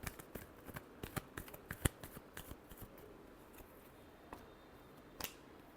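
Tarot cards are shuffled in a steady run of crisp, sharp riffles and flicks, close and clear with no talk, ending in a last snap near the close.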